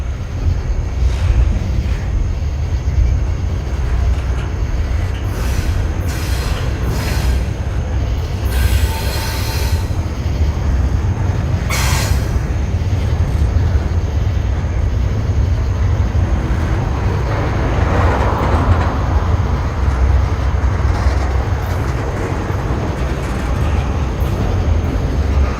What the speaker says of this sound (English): It's a long train car, or a long train in total rather